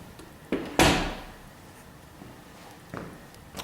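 A coat closet door in a rental home's hallway clicks and then swings open with a brief thud and a fading rustle. A faint tap sounds later in a quiet indoor space.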